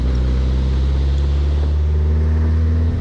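An off-road buggy engine idles and runs roughly after warming up, a loud, close, steady low rumble with a throbbing, uneven pulse and no voices over it.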